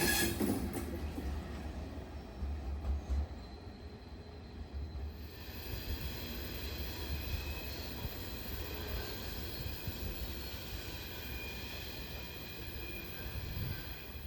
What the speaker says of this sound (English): the sand train has arrived in Boston.